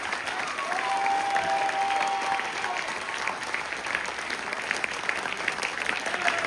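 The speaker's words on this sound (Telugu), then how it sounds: "big claps" Sustained applause from an audience honouring a diamond-anniversary couple at a function in Visakhapatnam, many hands clapping in a dense, even wash that holds for several seconds, with a few faint cheers mixed in.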